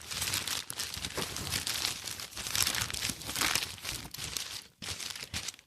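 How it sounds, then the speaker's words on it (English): Continuous papery crinkling and rustling as a box of receipts is shaken, dense and close, with a brief pause near the end before it resumes. "This is what my box of receipts sounds like."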